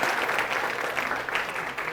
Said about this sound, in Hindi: वाह वाह तालियां